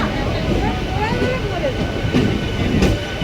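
A train on the Nabadwip line rumbles along the rails with a steady clatter, faint wheel squeals and tonal whines above it, close and continuous throughout.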